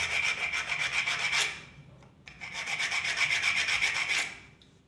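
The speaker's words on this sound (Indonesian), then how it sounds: "mari kita amplas biar rata" Hand sanding of a cut miniature tire piece, two bursts of rhythmic rasping back-and-forth strokes separated by a brief pause, close and fairly loud with no talking.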